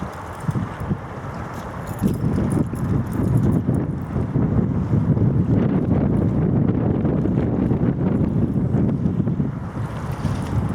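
Wind on a riverside in Dundee while fishing: a continuous rough, gusty roar of wind buffeting the microphone with a low rumble underneath, loud and steady, with no speech.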